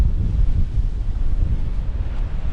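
Strong storm wind on the rocky Malta coast at Xghajra, a loud continuous roar buffeting the microphone, with possible surf beneath and no voices.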